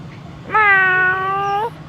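A schoolboy mimic imitates a cat with a single clear, drawn-out vocal meow lasting about a second, close and alone over a quiet background.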